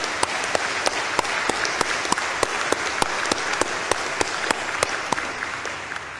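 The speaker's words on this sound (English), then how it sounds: "I want to give her an applause to Mrs. Kennedy for what she said." A church congregation applauds during a Catholic Mass homily, giving steady, full-room clapping with some sharp, evenly spaced individual claps standing out above the wash.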